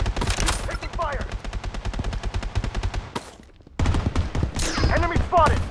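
Gunfire in BloodStrike: rapid automatic bursts up close, pausing briefly before another volley, with game voice callouts layered over the shots.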